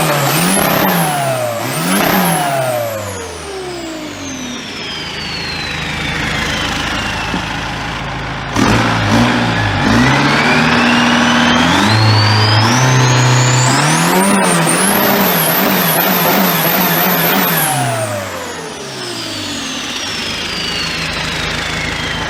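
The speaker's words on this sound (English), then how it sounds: "These men just built an engine in their garage." A garage-built big-turbo car engine revs hard, its pitch sweeping up and down through repeated climbs and drops, loud and close, with no talking.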